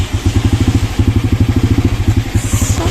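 A motorcycle engine running close by, a loud, rapid, regular chugging pulse that holds steady with a brief break before resuming, with no talk over it.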